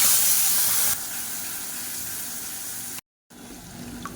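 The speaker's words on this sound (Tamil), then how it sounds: "இப்போ மிக்சி அலசிட்டு கொஞ்சமாக தண்ணி சேர்த்துக்கலாம்" Water running and splashing steadily into a mixer jar to rinse out chutney, with a rushing hiss, close by, briefly cutting out then resuming.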